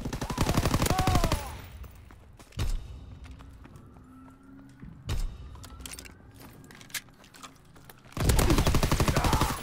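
Video game gunfire, with dense automatic bursts at the start and end and single sharp shots cracking between them, loud and close with no talk.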